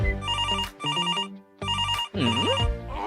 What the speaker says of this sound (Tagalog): Kinuha ng munting unggoy ang cellphone at tumawag agad.